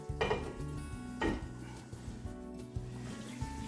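Spoon stirring curry powder into courgette and onion curry in a pan, with several clinks and scrapes against the metal over low background music, close and moderately loud.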